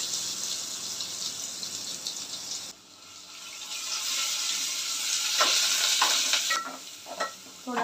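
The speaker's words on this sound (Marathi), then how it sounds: "थोडं लालसर होईपर्यंत परतून घ्यायचं।" Coarse-ground masala paste fries in hot oil with curry leaves, giving a steady close sizzle broken by a short lull, then louder crackling and scraping stirs toward the end; no talking.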